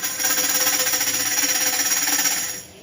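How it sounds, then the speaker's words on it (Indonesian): A tambourine is shaken rapidly and steadily for a couple of seconds, its jingles buzzing in a dense, bright rattle before stopping. "Nah, ini adalah tamborin"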